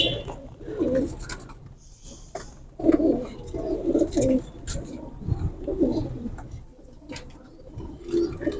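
Pigeons of a fancy breed, including golden and kamager types, coo in a low repeated murmur at close range, with soft chirps and rustling in between.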